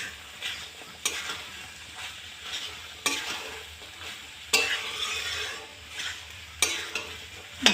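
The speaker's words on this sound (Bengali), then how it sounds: "আর একটু ভালো করে ভাজা হোক, তারপরে ঝোলটা দেবো" Curry frying in a pan hisses and sizzles steadily while a spatula scrapes and stirs it. The stirring comes in sharp, regular strokes about every second or so, up close with no talking.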